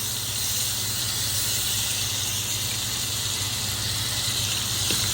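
Butter sizzling and hissing steadily in a hot pan with a seared steak, a loud continuous broad crackle that holds evenly throughout with no talk.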